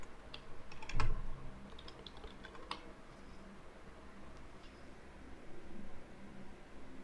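A git username is typed on a computer keyboard in quick, uneven bursts of soft clicks, with one louder clack early on, over a faint steady fan hum in a quiet room.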